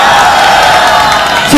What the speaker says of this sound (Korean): 큰 박수와 응원을 앞으로 계속 부탁드립니다